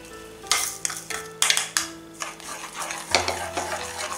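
A spoon scraping and clinking around a pan as milk and sugar are stirred over medium flame for falooda, in repeated strokes, with a faint sizzle underneath.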